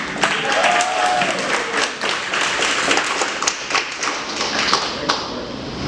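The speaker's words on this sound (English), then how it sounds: "Give a huge round of applause for John Silk." Comedy club audience applauding a comedian, close, loud and dense clapping with sharp individual claps and a few whoops, continuing for several seconds.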